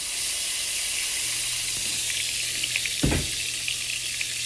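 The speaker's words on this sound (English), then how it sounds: "I'm gonna let the butter melt and then I'll add the rice." Butter and oil sizzle steadily in a hot pan, a continuous bright frying hiss with a louder burst of crackle partway through, close and alone with no talk.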